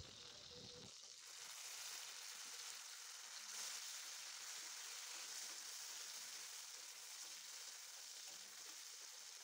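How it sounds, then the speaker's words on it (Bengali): Panch phoron and chopped tomato hit hot oil for a rohu fish curry, giving a steady, moderately close sizzle and crackle that starts abruptly after a short quiet moment and carries on evenly with no talking. "এই তেলের মধ্যেই আমি এখন দিয়ে দিচ্ছি পাঁচ ফোড়ন, আর তার সাথেই দিয়ে দিচ্ছি কুচি করে রাখা টমেটোটা।"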